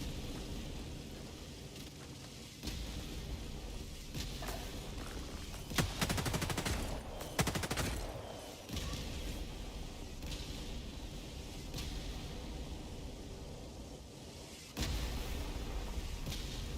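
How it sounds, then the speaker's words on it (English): Gunfire in Helldivers 2 pounds away at a tower, with heavy rapid bursts and booming impacts that rise and fall over a rumbling, rain-like backdrop, fairly distant and with no talk. "Oh, it's shooting a tower now."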